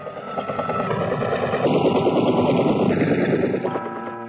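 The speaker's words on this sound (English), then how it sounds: "In spite of heavy ground fire, Army aviators get in with their dust off helicopters" Loud, steady rotor thumping of Vietnam War army medevac helicopters under heavy ground fire, rapid machine-gun bursts crackling over it, a dense continuous roar.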